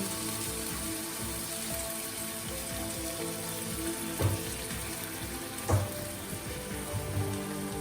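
Thickened cream simmers and sizzles in a hot steak pan after deglazing, a steady close crackle with a couple of brief louder pops or scrapes, no voices.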